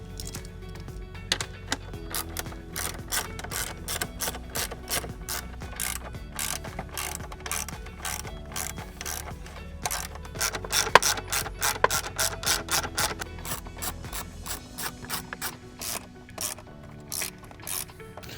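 A ratchet backs out 8mm bolts from the lower dash panel of an Audi B9 A4, giving a steady, continuous stream of rapid close clicking that runs without a break, with no talking.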